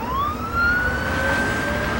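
An ambulance siren wailing in a rising, drawn-out tone over road noise, loud and close, heard on its own.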